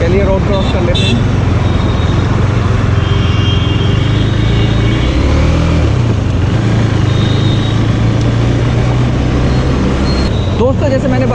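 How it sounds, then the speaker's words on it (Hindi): Busy road traffic at 10:30 at night, recorded from a GoPro chest mount, with a loud, unbroken rumble of car, truck and bus engines passing close by for the whole stretch. "रात के 10:30 बजे भी बहुत अच्छा खासा ट्रैफिक यहाँ पर हमको मिल जाता है।"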